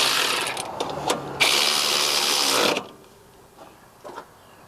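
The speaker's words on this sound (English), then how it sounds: "a battery operated ratchet for when you can't get in there with my other tool" A battery-operated ratchet whirring on shock absorber bolts during a Rhino progressive shock install, a steady mechanical buzz for over a second, then quieter scattered clicks and handling noises.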